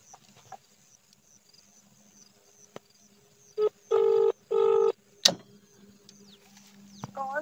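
A phone calls a Kisan Mithraa mobile starter for a three-phase farm motor: quiet ringback, then a few loud, steady electronic beep tones in quick succession, followed by a sharp click and faint chirps.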